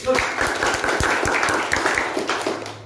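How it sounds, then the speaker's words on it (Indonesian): Applause from an indoor audience at an Indonesian company promotion ceremony, dense and steady clapping that fills the whole moment at close range. "Beri aplaus dulu."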